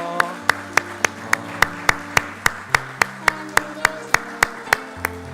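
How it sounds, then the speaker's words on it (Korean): A church congregation claps in a steady, even beat, about three claps a second, welcoming children as they enter, with sustained music tones playing underneath. "우리 아이들 입장해 주세요. 우리 박수로 환영해 주세요."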